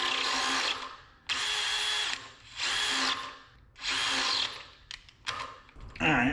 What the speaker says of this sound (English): drill this part out